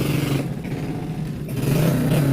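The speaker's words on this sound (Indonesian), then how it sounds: "Ini bermesin Supra guys" A motorcycle taxi built on a modified frame with a Supra engine revs close by, its steady mid-pitched engine drone holding loud and even throughout.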